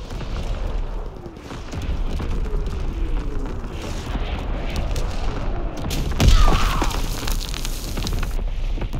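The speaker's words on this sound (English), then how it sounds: "Enemy mortar fire incoming." Mortar explosions in Call of Duty: WWII multiplayer: a sharp, loud blast near the middle over rumbling battlefield noise and distant firing, with a deep boom and crackling debris afterward.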